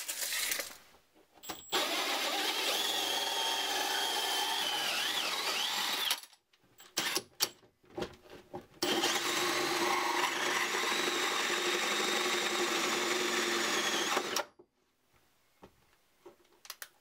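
A power drill bores a hole through the metal floor of a van during a camper build, running in two long, loud, steady bursts of several seconds each, separated by a short stop-start pause, with no talking.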